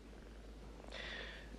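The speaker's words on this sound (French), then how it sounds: "Voici Marie. J'adore les chats" A cat purrs in a low, steady, continuous rumble. Partway through, a brighter sustained tone joins it.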